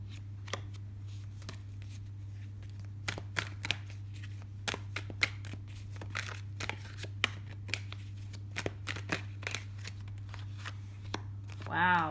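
Tarot cards are shuffled and pulled from a deck in a quiet room, giving soft irregular flicks and taps, with a low steady hum underneath and a brief louder rustle at the end.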